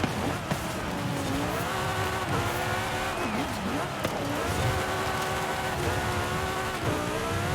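A car drifting in Forza Horizon 5 during a dirt race: a loud engine revs and wails up and down steadily, tires scrubbing beneath, with someone talking over it.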